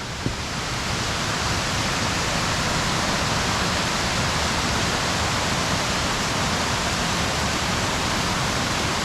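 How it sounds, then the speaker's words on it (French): Water cascades steadily down a mountainside waterfall on a hike, a dense, constant roar of rushing water that fills the whole scene without a break. "Ah, il y a une jolie cascade là."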